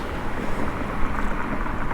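Strong wind roaring steadily across the microphone during a bike ride at dusk in Toronto, a dense low buffeting rumble throughout with no voices.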